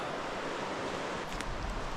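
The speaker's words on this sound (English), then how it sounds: "there's like a nice bubbling river next to this stunning wooden hut" A bubbling river runs beside a wooden track hut in Tasmania, heard as a steady, close, broadband rush of flowing water with no voices.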